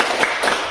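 A standing group performs the 'tepuk semangat' rhythmic clap routine in a classroom, a short burst of dense hand claps at close range.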